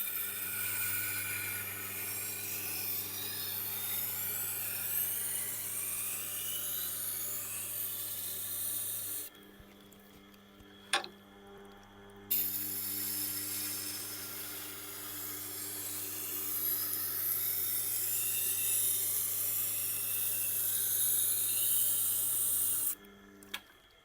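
A Global kitchen knife is sharpened on a Tormek Blackstone wheel, giving a continuous close grinding rasp over a steady motor hum, broken by a brief pause partway through.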